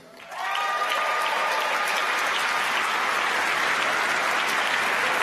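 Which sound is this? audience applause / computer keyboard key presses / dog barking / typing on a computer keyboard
audience applause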